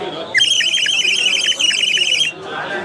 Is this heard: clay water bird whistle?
yes